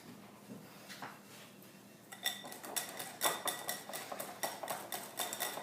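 Chocolate buttercream is beaten in a mixing bowl while butter goes in, a rattling, clattering whir of beaters against the bowl, quiet at first and then steady and busier.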